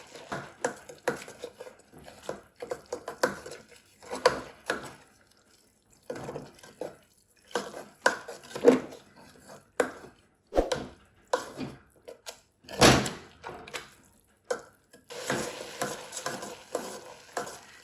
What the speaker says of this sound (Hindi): अब यहाँ पे इसको आप भूनते रहे कि घी जो हमने डाला है वो ऊपर आ जाए।